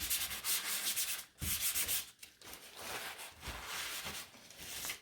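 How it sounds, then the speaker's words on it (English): Sandpaper rubs back and forth over a wooden sign in rhythmic strokes, close and fairly loud, with short pauses between bursts and no talking. "Now this needs a little sand first,"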